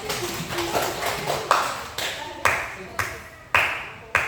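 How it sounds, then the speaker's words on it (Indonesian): A few students in a classroom clap in short, separated bursts, each clap sharp and nearby, with room echo between them. "kalau begitu kasih dulu tepuk tangan untuk temannya"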